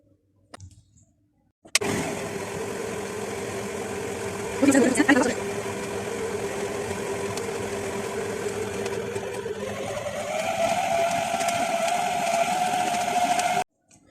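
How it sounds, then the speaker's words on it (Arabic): An electric dough kneading machine mixes dough for Moroccan rghaif, giving a steady, close motor whir that runs for about twelve seconds, its tone shifting partway through as the load changes. "وكنجيب العجانه باش غادي نخلطهم"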